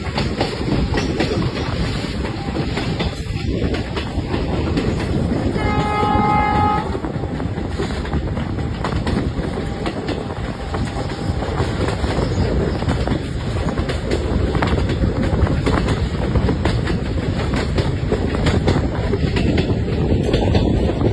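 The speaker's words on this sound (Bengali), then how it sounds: "ট্রেনটা বাঁক নিচ্ছে" A train rolls and curves through misty hills near Haflong, a continuous close rumble and clatter of wheels on rails, with a brief whistle-like tone partway through and no voices.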